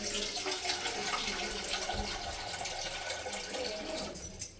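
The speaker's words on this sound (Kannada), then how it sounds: "ಇದು ಬೇಯೋದಕ್ಕೆ ಎಷ್ಟು ಬೇಕೋ ಅಷ್ಟು ವಾಟರ್ನ ಹಾಕ್ಕೊಳ್ಳಿ." Water is poured into a cooking pot for boiling sprouts, a faint continuous splashing trickle that runs steadily for several seconds, with a small clunk at the end.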